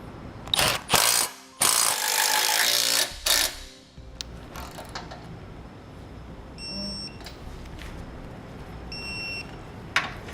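A hand ratchet snugs up the bolts on a Demco Tabless base plate being fitted to a 2018 Jeep Cherokee, giving a few loud, close bursts of rapid clicking in the first few seconds, then quieter workshop noise with a couple of faint beeps.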